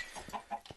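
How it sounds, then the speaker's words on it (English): Chickens in the video game Minecraft cluck in a quick run of three or four short, close calls, fairly loud and clear with no talk over them. "So here's my little chicken coop."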